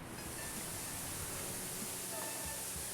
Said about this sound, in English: A huge 18-meter waterfall, a thrilling and exhilarating sight at the end of their long journey